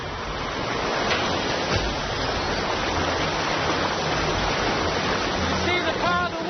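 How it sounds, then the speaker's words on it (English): A jungle river in a Sumatra canyon swelling after heavy rain, roaring as a dense, constant rush of water close by and filling the whole scene without letup. "See the power of the water really building up now here."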